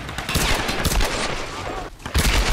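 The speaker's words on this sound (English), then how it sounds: "He shot me so much I'm seeing in black and white!" Enemy gunfire rattles in the Tomb Raider video game, with dense rapid shots, loud and continuous through the whole moment, and a sharp burst near the end.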